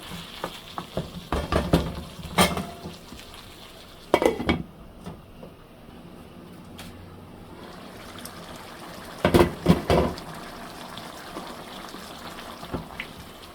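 A spoon stirs a thick, dry Loitta shutki (dried fish) curry with potatoes and eggplant in a pot. Clinks and scrapes come in bursts over a low, steady sizzle, close by, with no talking.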